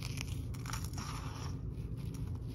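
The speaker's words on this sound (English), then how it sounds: "The first introduction of eating hard kibble." Weaning puppies chew small, hard, dry puppy kibble, giving soft, irregular crunching and biting close by, quiet and steady over a low background hum.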